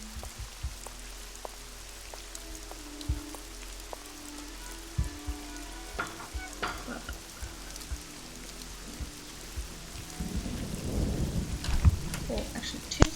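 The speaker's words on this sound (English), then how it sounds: "So we'll listen to the rain while I'm writing." Steady rain ambience from the Nancy Drew game Legend of the Crystal Skull, a continuous soft patter with low rumbles, growing louder and busier toward the end.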